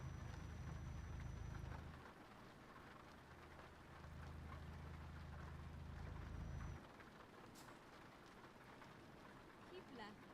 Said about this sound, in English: The mist has faded away as the rain is dying down.